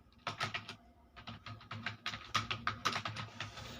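Rapid typing on a computer keyboard while entering data into an Excel salary sheet, with steady bursts of close key clicks in uneven rhythm and short pauses between words.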